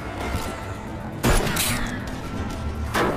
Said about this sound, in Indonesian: Aksi tembak-tembakan tak terhindarkan lagi.